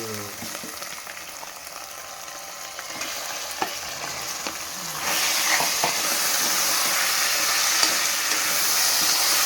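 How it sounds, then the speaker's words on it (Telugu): Mutton frying with ginger garlic paste in a pan, a continuous crackling sizzle with stirring scrapes that grows louder and brighter partway through, close and steady. "అల్లం వెల్లిగడ్డ వేసి కొంచెం పచ్చివాసన పోయేంత వరకు వేసుకొని ఈ మటన్ అనేది వేసేద్దాం"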